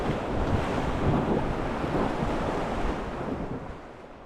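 River rapids on the John Day River in Oregon during a rafting trip, a loud, steady rushing of churning water that fades slightly toward the end, with no voices.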